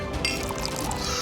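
Water being poured into a container in a domestic setting, a steady continuous trickle running throughout without a break.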